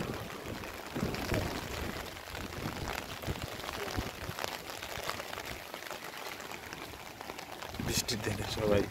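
Steady rain falls on surfaces outdoors on a wet day at a housing project inauguration, making a continuous close patter and hiss with faint voices underneath.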